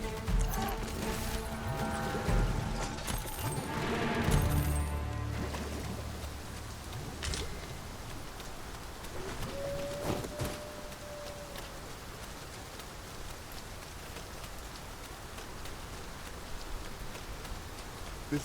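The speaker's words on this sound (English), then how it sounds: "This downpour seems unlikely to abate." Steady rain pours down in the fantasy video game Dragon's Dogma 2, a soft, continuous hiss with scattered patter and occasional faint thuds, heard alone without voices.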